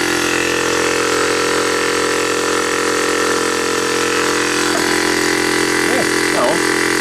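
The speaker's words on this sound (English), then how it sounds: "50 litre tank and 72 litre a minute compressor, which is probably really only doing about 50 litres a minute" A small 12V direct-drive air compressor, recently repaired for a cylinder leak and feeding a 50-litre tank, runs with a loud, constant buzzing drone up close while a voice speaks briefly near the end.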